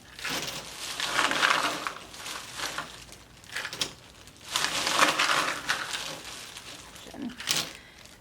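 Ice is poured in around a quart-size plastic bag for homemade ice cream, making several rattling, crunchy bursts that come and go over a few seconds.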